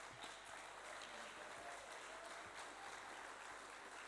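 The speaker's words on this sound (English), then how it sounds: "Please give him a round of applause." Audience applause welcomes a speaker at a youth digital-innovation pitch event: a continuous wash of clapping from many hands, heard faint and distant throughout.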